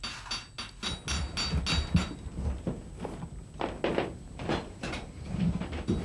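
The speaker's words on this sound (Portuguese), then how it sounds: "Por todas as pequenas orivesarias se ouve o mesmo martelar." Small metal hammers tap irregularly in a goldsmith's workshop in Weimar, Germany, giving a steady run of close, sharp knocks with workshop background noise.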